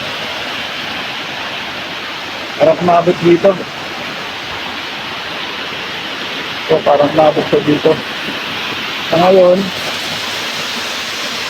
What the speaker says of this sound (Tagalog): hindi ganun kalakas yung bagsak ng tubig dito, kaya medyo malinaw siya